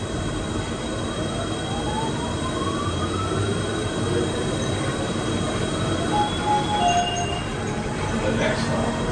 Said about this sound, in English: Please hold on while the train is moving.